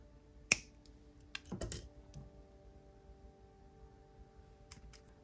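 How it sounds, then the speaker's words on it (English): Jewelry wire snipped off with cutters during necklace making, one sharp close click followed by a few soft handling taps and rustles in an otherwise quiet room. "Snip off the excess."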